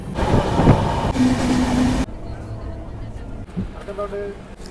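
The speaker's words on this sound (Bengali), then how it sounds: "এই পুরো ট্রেনটা পার্সেল নিয়ে যাচ্ছে, হাই ক্যাপাসিটি পার্সেল ভ্যান" A freight train of high-capacity parcel vans rumbles past nearby with a loud, continuous roar, then fades to a quieter background with faint rail noise.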